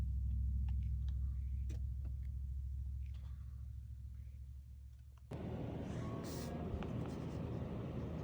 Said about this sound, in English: we should probably turn this truck off here